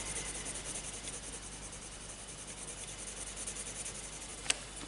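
Castle Art colored pencil scratches steadily across very smooth paper in soft, continuous close-up strokes, with a brief tap near the end and no talking.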